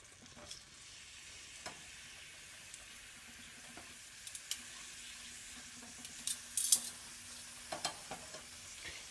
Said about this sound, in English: we're going to saute these shrimp until they turn pink